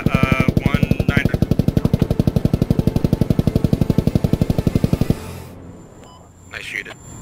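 Rapid automatic gunfire in the video game Squad, a long loud burst of evenly spaced heavy shots for about five seconds, then a sudden stop into quiet ambience, with voices speaking over it.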